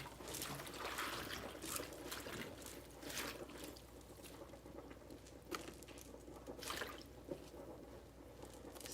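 Plant stems pushed down into a bowl of soaking water in a home kitchen, with soft patters, drips and small splashy trickles coming in irregular bursts, quiet and close with no talking.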